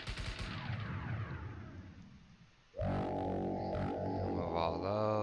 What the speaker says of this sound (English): Switch to my assault rifle.